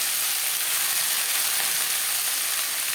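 Cumin seeds and green chillies fry in hot oil before pea greens go in, a steady close crackling sizzle that holds evenly throughout with no voices.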